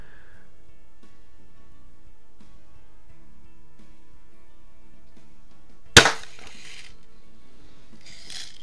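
A Daisy air gun fired once at a target in a quiet garage, a single sharp crack followed by a short rattle, with faint metallic clinks afterward.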